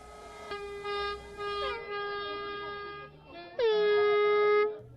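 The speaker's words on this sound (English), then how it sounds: "Cars drove by honking cars, honking their horns and waving party flags" Vehicle horns blare in sustained, tonal blasts on a street during an election victory celebration, one long honk followed by a louder, sharper one after a brief gap, with faint background noise.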